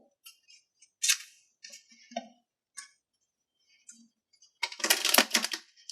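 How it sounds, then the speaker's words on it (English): A deck of tarot cards is handled with a few soft taps and slides, then comes a dense, crisp riffle shuffle near the end, all close and quiet. "You want me to do one more shuffle?"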